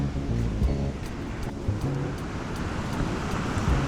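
Ocean waves break and wash in a steady, broad roar on a Western Cape beach near Cape Town, with wind rushing across the microphone throughout.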